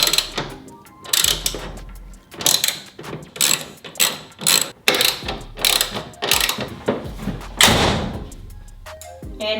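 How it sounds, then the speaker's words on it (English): Hand ratchet tightening 10mm bolts on a Toyota Tacoma taillight, loud close clicking in repeated quick bursts with short pauses between strokes. "put our 3 10mm bolts back into place. And then tighten everything down."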